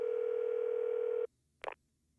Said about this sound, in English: But here's a payphone.